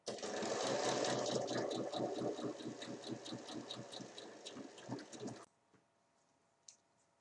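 A sewing machine stitches fabric around the edge of a drawstring-style basket, a fast steady mechanical whirring chatter for about five seconds that stops abruptly, followed by quiet handling noises.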